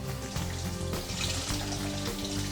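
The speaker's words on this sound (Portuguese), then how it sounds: "Eu jogo um pouco mais de água para tirar o excesso de sal. É água corrente mesmo e água fresca." Fresh running tap water pours steadily over brined fish roe being rinsed of excess salt for homemade caviar, a continuous close splashing hiss with no pauses.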